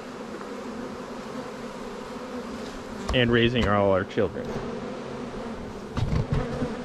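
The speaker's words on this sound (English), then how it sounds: "one last time to strap these bees down before we harvest, we pull out the honey" Honey bees hum in a dense, steady drone at a hive in Alaska, with a person speaking briefly over the buzzing partway through.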